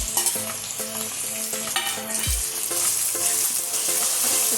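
Potato, onion and spices for bataka poha fry in a pan while being stirred, with steady sizzling and repeated spoon scrapes against the metal, close and moderately loud, without talking.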